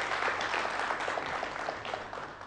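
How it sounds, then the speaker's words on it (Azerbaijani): Audience applause sending off a contestant leaving an Azerbaijani TV quiz show, a dense steady clapping that holds at a moderate level throughout. "Alqışlarla yola salırıq, Sevinç xanım"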